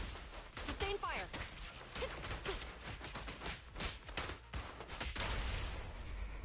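Sustained gunfire in the video game Zenless Zone Zero, rapid overlapping shots forming a dense fusillade beneath shouted voices, fairly quiet overall.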